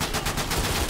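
Rapid automatic bursts from an MG42 machine gun in the shooter Day of Infamy, a loud, fast, evenly spaced string of shots with no talking.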